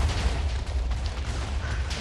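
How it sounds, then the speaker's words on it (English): A video game explosion sets off a sustained rumbling roar of destruction, dense and steady for about two seconds, with no voices over it. "Explosion!"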